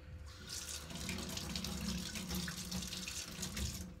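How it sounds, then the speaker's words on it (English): A water tap runs steadily at a sink while a clarinet mouthpiece is rinsed under it, giving a continuous close splashing hiss with no talk. "I'm first going to rinse a little bit out with water"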